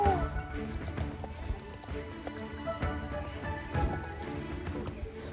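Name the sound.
horse hooves clip-clopping in the Star Stable video game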